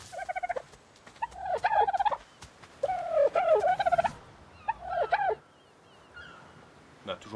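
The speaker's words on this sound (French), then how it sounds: "Bon, les oiseaux, il va falloir qu'on fasse un filet du coup." Repeated turkey-like gobbling calls from birds in a PC video game, in several loud bursts across the clip with short pauses between, fading to quieter calls near the end.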